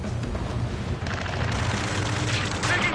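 Dense gunfire and explosive bursts roar throughout a ground rescue battle in the Ace Combat 7 video game, a loud, continuous fusillade with heavy low rumble and no spoken voice over it.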